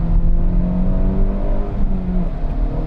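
An Acura Integra Type S engine pulls hard under acceleration, a loud, steady droning rev with rising harmonics heard from inside the car.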